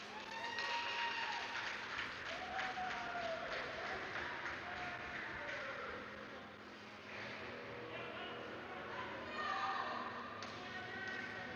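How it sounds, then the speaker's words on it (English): Whitmer fans at a high school ice hockey game jeering with a Bronx cheer, a sustained crowd roar filling the rink, mixed with echoing arena noise and commentary talk. "that was a Bronx cheer if I've ever heard one from the Whitmer fans"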